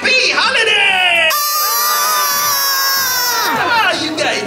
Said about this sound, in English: the proper response is to throw your arms up in the air and scream like this